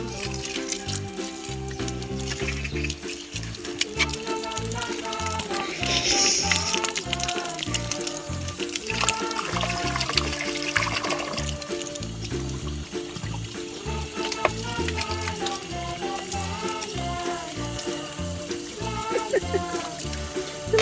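Water sprays and splashes steadily over a cat in a backyard water-play setup, a continuous hissing, trickling stream with uneven splashes, while people talk and murmur over it.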